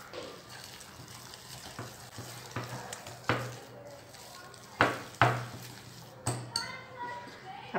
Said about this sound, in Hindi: थोड़ा थोड़ा पानी डाल के हम इसे अच्छा सा बैटर रेडी कर लेंगे।